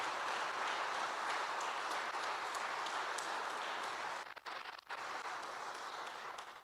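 A church congregation applauding, a dense steady clapping that fills the room and holds for several seconds before briefly thinning and then resuming, with no voices over it.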